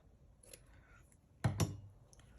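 Scissors snip through a paper tag with a couple of sharp, close cuts after a brief quiet rustle.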